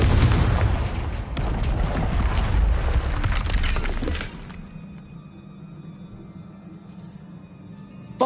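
A Confringo fire spell blast in the video game Hogwarts Legacy, a loud booming burst with a second impact and rumbling tail that cuts off into a low, steady ambient hum.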